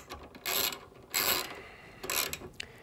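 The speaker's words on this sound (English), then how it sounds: "take a T30 Torx driver and we're going to snug that up" A T30 Torx driver turns a shouldered pivot knuckle screw on a Trektop fitted to a 4-door Bronco, giving three short scraping ratchet-like bursts up close.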